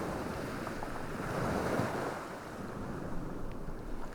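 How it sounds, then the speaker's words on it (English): Ocean surf washing steadily onto a shoreline, a continuous broadband roar that swells around the middle and eases again, with some wind noise over the microphone and no voices. "If you close your eyes and listen, you can let the waves drown out your sorrows"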